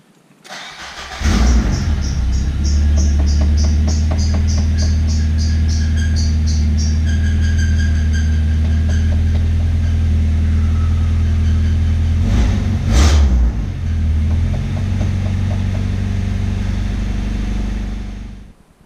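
A Nissan SR20VE engine in a B14 with open headers cranks and catches, then holds a loud, raw idle for more than fifteen seconds, with a brief blip of revs partway through and no talking.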